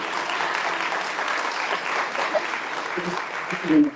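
Sustained audience applause at a Workers Party of Britain political event, dense steady clapping from a sizeable crowd throughout, slightly louder swell near the end.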